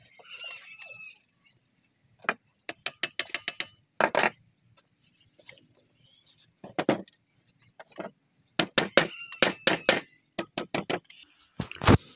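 Screw being tightened on a wooden hand plane (randa), heard as close, crisp bursts of rapid ratcheting clicks and wooden knocks in several quick clusters with pauses between, no talking.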